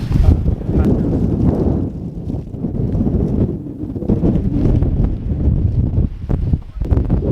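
Strong wind on a snowy Scottish mountain roars and buffets the microphone in a heavy, rumbling rush that keeps surging and easing without a break.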